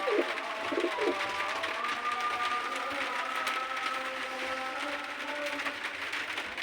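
A domestic pigeon, a pure-breed bird with white eyes, black beak and a tagged leg, coos in soft repeated bursts near the start, then continues faintly over a steady background hum with no talking.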